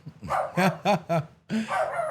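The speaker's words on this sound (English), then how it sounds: "the dog says the show is over" A dog barks several times in a quick, loud series of sharp yips close by, followed by a longer whining bark.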